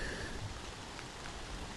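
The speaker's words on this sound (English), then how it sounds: "Take a walk with me in the rain." Rain falling steadily outdoors, a soft, even hiss of drops with faint scattered patters, quiet and continuous with no talk.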